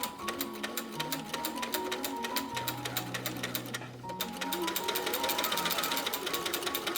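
A sewing machine stitches corset panels, a back panel joined to a hip panel, running in steady rapid needle strokes close by with a brief pause midway, then resuming a little louder.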